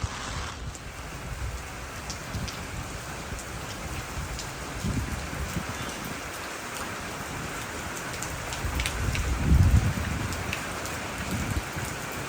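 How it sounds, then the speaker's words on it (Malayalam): Steady, heavy rain patters down continuously, swelling slightly louder at times, with no voices. "മഴ അങ്ങനെ ഗംഭീരമായിട്ട് തുടങ്ങി"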